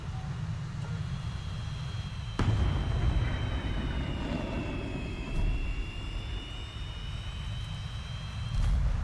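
A jet aircraft engine in War Thunder, a loud continuous roar with a whining tone that holds steady and swells slightly a few times across the stretch.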